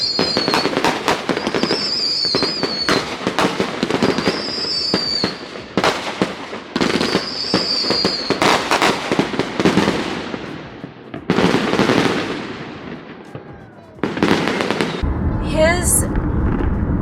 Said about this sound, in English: so I might be able to pull out my camera again for the fireworks display